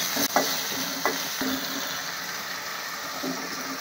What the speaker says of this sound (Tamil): பூசணிக்காய் போட்டுட்டு இதில் கொஞ்சமாக மஞ்சளையும் ஆட் பண்ணிக்கிறேன். இதை நல்லா கொஞ்சம் வதக்கி விடணும்